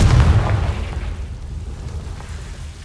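A Confringo spell blast in the video game Hogwarts Legacy gives one heavy, booming explosion up front, then a rumbling tail that fades over a few seconds, loud and close with no talking.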